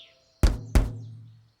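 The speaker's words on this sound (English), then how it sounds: "When you tap it and the watermelon sounds like this." Two quick, hollow knocks on an unripe watermelon, close and distinct, each ringing briefly before fading, with a faint chirp in the background.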